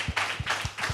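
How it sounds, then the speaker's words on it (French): A studio audience claps on a French television talk show, with a few short bursts of hand claps in an uneven rhythm. The applause is fairly close and moderately loud, with no talking over it. "Mais on vous applaudit bien entendu"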